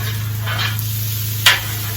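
Jambalaya fried rice cooking on a Blackstone griddle, a steady sizzle with scraping and stirring strokes from a spatula and one sharper scrape near the end, under a constant low hum.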